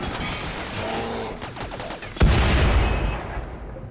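Gunfire in RimWorld aimed at a Scyther mech: a dense, steady rattle of shots and impacts, then a sharp loud boom at about two seconds followed by rumbling bursts that fade out.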